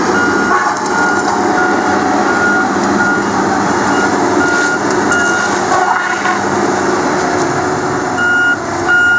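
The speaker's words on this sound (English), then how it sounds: "You hear that fan? It was just reversed just then," A Tigercat LX830D feller buncher runs nearby with a steady heavy engine drone and the rushing roar of its cooling fan reversing, with faint intermittent beeping over the machine noise and no talking.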